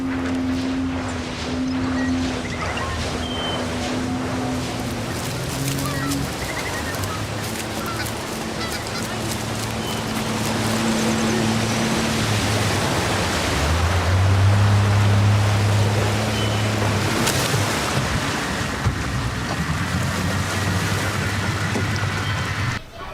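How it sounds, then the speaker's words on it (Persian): A motorboat engine, likely a park ranger's boat, drones steadily on the water for the whole stretch, a continuous low hum that swells slightly midway. "صدای قایقه. فکر کنم قایق محیطبانه است."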